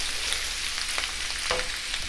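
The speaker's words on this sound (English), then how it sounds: "That's the sizzle you want to hear." Soft, steady sizzling of shrimp frying in a pan, with a couple of faint scraping touches, fairly quiet throughout.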